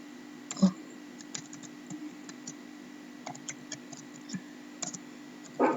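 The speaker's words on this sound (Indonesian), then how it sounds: "Kemudian di sini kita ketikkan" Sparse typing on a computer keyboard, with scattered individual key clicks and a few louder taps over a steady low hum, no one speaking.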